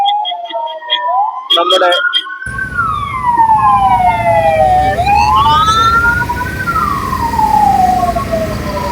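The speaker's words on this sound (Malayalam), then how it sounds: "ഈ ട്രാഫിക് ജാമിന്റെ ഇടയ്ക്കിൽ കൂടി ആംബുലൻസ് കടന്നു പോകുന്ന" An emergency ambulance siren wails loud and close, sweeping up and down as it pushes through a traffic jam at a busy town junction in Thodupuzha, with traffic noise beneath and a brief voice near the start.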